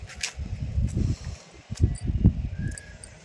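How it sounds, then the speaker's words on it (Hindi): Wind gusting across a cloudy, chilly rooftop, heard as irregular low buffeting rumbles and rustling that rise and fall in uneven bursts, close and fairly loud. "ऊपर हवा चल रही है ना तो ठंडा लग रहा है"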